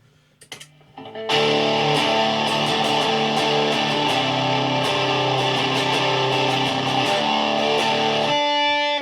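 A heavily distorted electric guitar, a Squier Sonic Stratocaster, rings out in a thick, sustained chord after a few brief plucks, loud and unbroken until it cuts off near the end.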